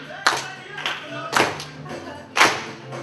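Audience soul clapping together to a beat at a TEDx talk in Ottawa: three loud, sharp claps spaced about a second apart, over steady funk music.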